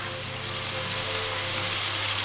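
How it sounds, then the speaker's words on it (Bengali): Chopped onion and capsicum sizzle steadily in a hot pan for vegetable dalia, a continuous bright frying hiss close by with no talk over it. "পেঁয়াজটা এবং ক্যাপসিকামটা একটু ভেজে নিয়ে আমি বাকি সবজিগুলো দিচ্ছি"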